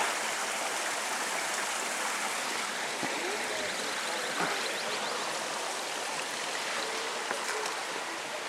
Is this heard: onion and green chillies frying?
no